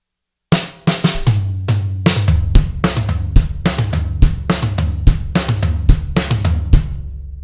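A rock drum kit plays measures three and four of a rock song's ending drum solo: rapid, dense strikes of toms, snare and kick, with crashing cymbals, played loud and close without pause for about seven seconds.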